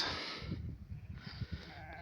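Freshly sheared sheep back from mountain pasture bleat near a released ram, with overlapping rough calls over a steady background hiss.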